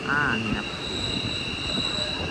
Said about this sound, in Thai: เสียงร้องของราง